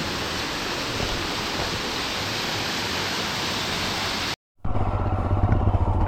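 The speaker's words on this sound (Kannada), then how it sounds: "ಈಗ ಕ್ರಾಸ್ ಮಾಡಬೇಕಾದ್ರೆ ಅದು ಇಲ್ಲಿ ನೀರು ಬೀಳ್ತಾ ಇದೆ" Elaneeru waterfall pours with a loud, steady broadband roar of falling water that cuts out abruptly near the end, then resumes somewhat thinner with faint rumbling beneath.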